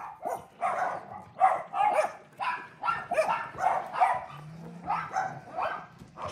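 A Bully Kutta dog barks in a run of deep, rough barks at a steady, regular pace, loud and close, with no talking.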